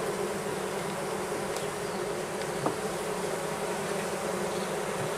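Honeybees buzzing steadily inside an opened hive with an aging queen, a dense continuous drone close by with no pauses and no voices.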